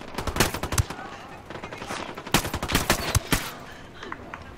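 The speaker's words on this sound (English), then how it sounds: "All this precision shooting going on here. There's still with the bullets flying around." Gunfire in the Ghost Recon Wildlands video game, bursts of rapid shots and sharp single cracks in quick succession, loud and close, with brief gaps between volleys.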